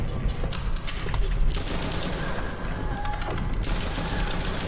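Rapid gunfire and mechanical clatter fill a horror hospital video game, with bursts of shots repeating over a busy, noisy background for several seconds.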